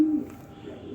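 A pigeon gives a short, low coo close by, one brief throaty note that fades quickly into quiet room sound.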